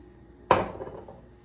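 A single sharp metallic clank as a moqueca cooking pot is set down on a stovetop, ringing briefly before fading, with nothing else around it.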